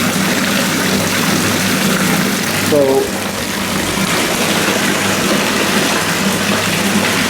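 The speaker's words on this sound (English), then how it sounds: "We've got 3 pumps going in here right now." Three pumps bubbling and gushing water in a fish tank, a continuous loud wash of bubbles and flow, with someone briefly speaking over it.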